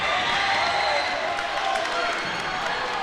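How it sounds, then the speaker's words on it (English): Basketball crowd in a college gym during free throws, Roosevelt at Purdue Northwest, a steady dense roar of voices and cheering filling the arena without letting up. "Crowd making a lot of noise here"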